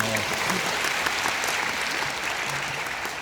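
Dense, steady clapping from a large audience at a rock concert at a music festival, sustained throughout at even volume.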